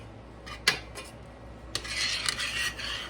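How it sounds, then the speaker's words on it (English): A spoon scrapes and clinks against the bottom of a cooking pan as chicken broth simmers in it, giving soft rasping strokes with a few sharp metallic knocks, quiet and with no voices. "you want to scrape the bottom of your pan with your spoon to get all that stuff off the bottom"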